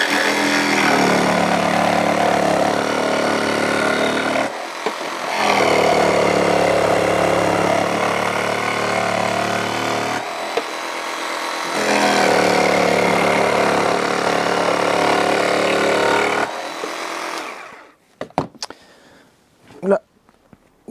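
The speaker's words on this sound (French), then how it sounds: "Je vous propose de découper de l'OSB avec une lame suffisamment fine en fait pour pouvoir faire quelques petits virages." A Bosch Pro GST 12V-70 cordless jigsaw with a fine blade cuts OSB board in three sustained, loud buzzing runs separated by short pauses, followed by a few sharp clicks and knocks as the cutting stops.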